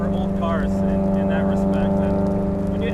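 Datsun Fairlady 1600 roadster fitted with an SR20 engine pulling hard in a lower gear, a steady, loud, buzzy engine drone with a constant pitch that stays close and continuous throughout.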